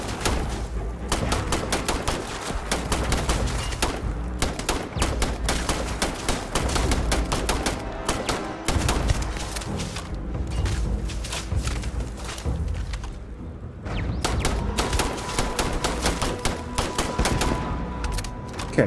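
Gunfire and turret fire in a Starfield battle, dense rapid bursts of close weapon shots that repeat in long volleys across the whole stretch, with only short lulls between them.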